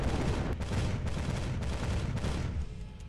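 Rapid gunfire in the strategy video game Capital Command, a loud dense volley of shots that dies down toward the end.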